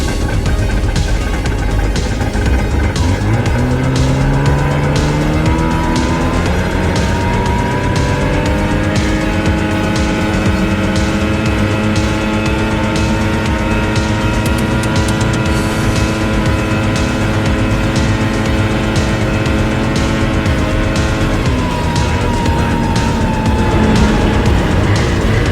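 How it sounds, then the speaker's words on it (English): A 1989 Yamaha Ovation 340cc snowmobile speeds along at full throttle. Its loud two-stroke engine whines steadily and climbs in pitch as it accelerates, holds near the top, then eases slightly toward the end, heard close and alone. "I am going to do a little bit of speed here, just for nostalgia's sake"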